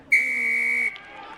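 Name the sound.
referee's whistle signalling penalty at rugby scrum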